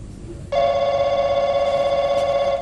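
A telephone starts ringing after a half-second pause in a stage play. The steady electronic tone is loud and close and lasts to the end, with faint background noise beneath it.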